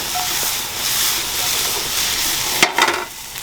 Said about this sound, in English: Let's give this a stir just to give us something to do right now.